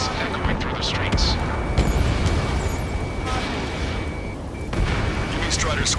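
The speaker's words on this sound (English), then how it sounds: "gunfire and the roar of jets echoing through the streets" Gunfire and artillery booming across a city under martial law in the Ace Combat 7 video game, a dense, continuous rumble of distant blasts and shots with a steady tone running through part of it.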